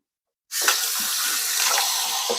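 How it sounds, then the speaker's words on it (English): Tap water switches on abruptly and pours steadily over slow juicer parts being rinsed in a sink, a loud close hiss with small splashy changes as the parts move. "as far as rinsing this out"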